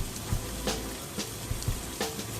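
Steak frying in a pan gives a steady, close sizzle, with scattered small pops and spits breaking through the hiss.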